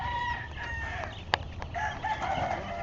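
Roosters of a new gamefowl breed crow on a farm at moderate distance, one sharper call standing out midway among softer clucks and crowing, over a low background rumble with no talk.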